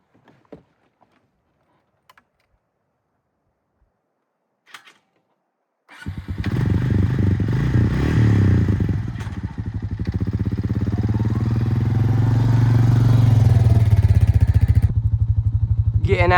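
Near-silence with a few faint clicks in the wild at dawn, then a four-wheeler ATV engine cranks and catches. It settles into a loud, close chugging run that builds as the machine gets moving.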